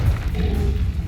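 A Confringo fire curse cast in Hogwarts Legacy lands as a loud, dense booming blast with heavy thuds, filling the whole short moment up close.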